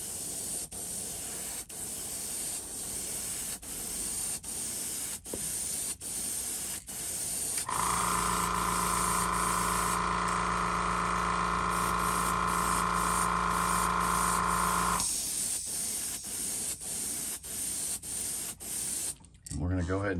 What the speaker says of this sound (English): You wanna spray this over black also.